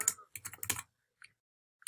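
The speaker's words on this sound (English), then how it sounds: "Type in my password" Password keys tapped on a computer keyboard: a quick cluster of close, crisp clicks, then two isolated taps after a pause.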